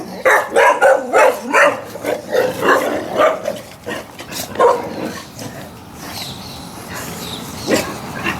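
A Presa Canario or Dogo Canario barks in a rapid run of loud, close, deep woofs, then pauses and lets out a few scattered barks and whines toward the end.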